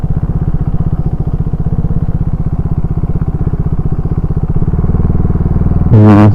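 Motorcycles ride along a congested road near Jam Gate, with a loud, close, steady engine putter and rapid firing pulses, then a sudden harsh horn-like blare near the end.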